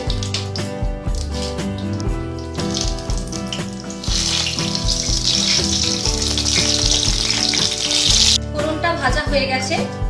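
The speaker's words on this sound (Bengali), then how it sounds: "প্রথমে দুটো লঙ্কা ফোড়ন দিলাম কালো জিরে তেজপাতাটাকে চিরে দিচ্ছি" Whole dried red chillies, nigella seeds and a split bay leaf sizzle and crackle steadily in hot mustard oil, a loud close frying hiss that grows brighter midway, with a voice speaking over it.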